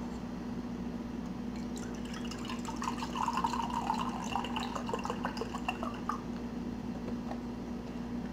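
Semi-skimmed milk pours onto a bowl of frosted cereal, a soft, steady liquid splashing and trickling that swells in the middle and fades, heard faintly over a low electrical hum.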